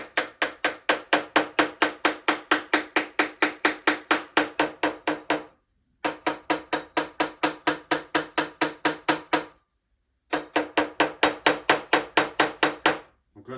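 A partly forged metal blade tapped lightly to loosen it, a fast, even series of sharp metallic ticks in three bursts separated by brief pauses, close and clear with no talking.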